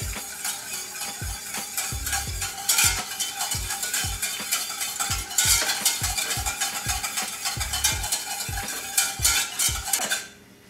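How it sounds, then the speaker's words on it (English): Metal whisk clatters rapidly and repeatedly against a pan while stirring heaping tablespoons into a Cornish hen glaze, sharp rhythmic clinks up close with a steady scraping wash beneath, stopping abruptly at the end. "And I have a whisk too, so whisk it in."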